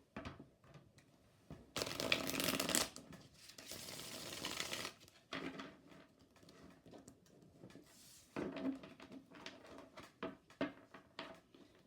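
A tarot card deck being shuffled by hand, with repeated papery riffling and sliding bursts of varying length separated by quieter gaps, close and fairly soft, no talking.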